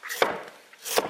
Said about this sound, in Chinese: 下面我们把番茄给它切一下